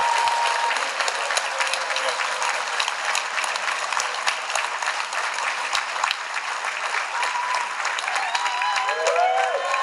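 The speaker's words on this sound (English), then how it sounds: "Another round of applause for Chief Sparrow." A crowd at a political rally in a Surrey banquet hall applauds loudly and steadily throughout, a dense wash of clapping with occasional cheers mixed in.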